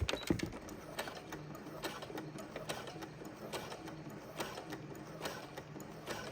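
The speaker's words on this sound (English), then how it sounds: "I'm sewing like super close to the edge, but not extremely close" A home sewing machine stitching a fabric boning casing runs at a turned-down speed, giving a fast, even mechanical clatter of needle strokes, close and fairly quiet, with no talking.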